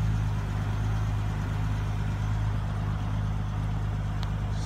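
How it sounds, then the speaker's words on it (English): A 1999 Nissan Skyline 25GT-Turbo R34 coupe with manual gearbox and 276hp turbo engine idles steadily, a low droning hum with exhaust note, constant and moderately near, with no talk. "So right now with the engine on, you can hear the howling from the exhaust."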